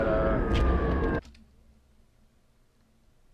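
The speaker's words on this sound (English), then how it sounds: "You can hear the siren in the background" A siren wails in the background of a Halo fan animation, partly buried under a dense, loud wash of battle noise, then cuts off abruptly after about a second, leaving only a faint low hum.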